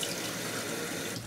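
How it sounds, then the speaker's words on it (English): Thai tea pours into a clear cup in a steady, close liquid stream, a brief continuous splashing gurgle with no talking. "I'm going to pour it into a clear cup so you know how it looks like."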